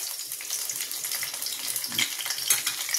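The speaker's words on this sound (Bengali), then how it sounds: "রসুনটা ভাজা ভাজা হয়ে আসছে" Garlic frying in a pan with a continuous close hiss and crackle, fairly even in level, with a few louder spits near the end and no voices.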